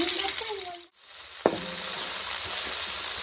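Onions and tomatoes sizzle steadily in a pan for a village-style chicken curry, with a brief dip in the sound and a sharp clink as ingredients go in, then continuous frying.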